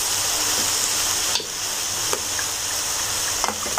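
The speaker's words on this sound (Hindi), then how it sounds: "इसको भी थोड़ा सा इसमें भूनेंगे जी" Samosa filling of potatoes with soy sauce frying in a pan, a loud continuous sizzle with occasional spoon scrapes and knocks as it is stirred.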